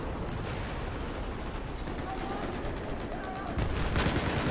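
Rapid bursts of gunfire crackle over a dense, noisy soundscape in the video game Battlefield 4 multiplayer, growing louder near the end.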